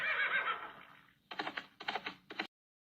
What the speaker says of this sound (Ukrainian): Кінь гривастий нас вітає